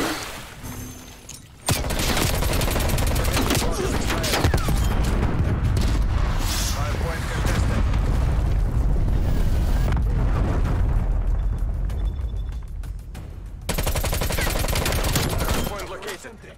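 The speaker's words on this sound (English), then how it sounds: "they're shooting me from up there" Sustained heavy gunfire in Call of Duty: Black Ops Cold War, loud continuous automatic shooting with booming blasts for most of the clip, a brief quieter gap near the end before the firing resumes.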